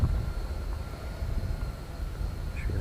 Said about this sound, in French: Alors le drone monte.